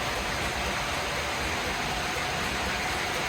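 Heavy rain pours down outdoors in a steady, loud, dense hiss of drops that holds unbroken for the whole stretch, with no voices over it.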